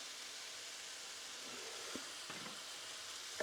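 Hot curry powder and flour hiss in a pan for a wartime cod curry, a soft steady sizzle with a few faint clinks and stirring knocks toward the end.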